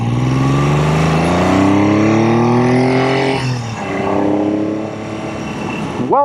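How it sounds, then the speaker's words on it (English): A Triumph Trident T160 motorcycle is ridden. Its engine drones loud and close, climbing steadily in pitch as it accelerates, then drops and revs up again, with no talk over it. "This is an amazing motorcycle."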